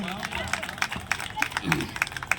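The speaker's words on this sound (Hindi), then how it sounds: "ताली बजा ले करो" Audience clapping at a Shiva Purana religious discourse gathering near a Chārbhujā temple, a ragged patter of claps rising and falling over a crowd murmur, with speech weaving through.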